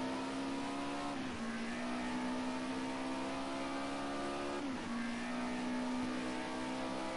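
A touring race car laps Donington Park, its engine holding a loud, steady high-revving whine with two quick dips in pitch at gear changes or lifts before climbing straight back up.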